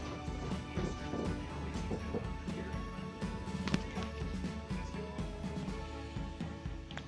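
A television program plays in the background, a busy mix of voices, music and thumps and crashes at a steady moderate level.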